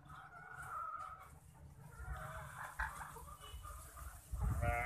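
Shaver layer hens range freely on a farm, giving faint, scattered clucks and calls over a low outdoor background, with a louder burst near the end.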